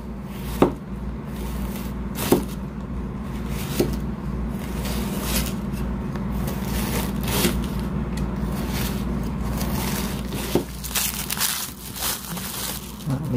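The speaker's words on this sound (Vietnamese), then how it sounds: "Này mình xắt mỏng mỏng ra." A knife thinly slices cabbage on a cutting board for a duck salad, with sharp irregular chops and crunches over a steady low background hum. Nobody speaks.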